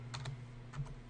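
Typing on a computer keyboard: a few quick keystrokes in two small bursts, close and quiet over a low steady hum, with no voices.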